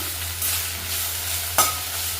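Ingredients for mint pulao frying in a pan over medium heat, a soft steady sizzle under a low hum, broken by one sharp scrape or stir near the end.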